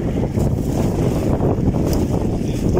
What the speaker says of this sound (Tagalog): It's windy Friday.